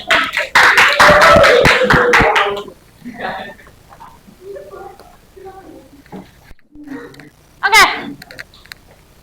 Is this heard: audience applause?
yes